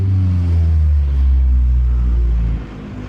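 A B20B-swapped 1996 Honda Civic hatchback engine, still warming up, revs with a deep, loud rumble that holds steady, then drops off sharply near the end.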